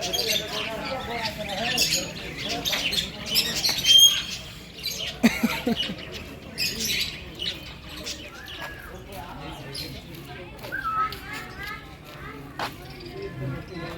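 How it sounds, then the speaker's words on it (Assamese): Birds at a zoo squawk and chirp repeatedly in the background while children's voices and chatter carry on throughout, the calls scattered and moderately loud. "এফালে গোটেই চৰাই চিৰিকটিখিনি আছে"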